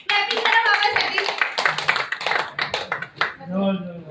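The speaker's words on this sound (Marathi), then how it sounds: "टाळ्या वाजवा क्लॅपिंग करा बाबासाठी." An audience claps steadily to welcome Palve Baba, with quick patters of applause running the whole way through and voices mixed in.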